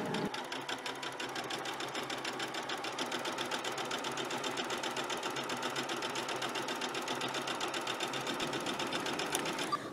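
Sewing machine stitching a cuff onto a knit blouse sleeve with a half-inch seam, a fast, even mechanical whirring rattle running steadily and close for the whole stretch.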